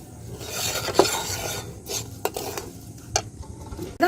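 Roasted semolina and sugar are stirred in a pan with a dry, gritty scraping that repeats in irregular strokes, punctuated by sharper utensil scrapes against the metal. No voices are heard.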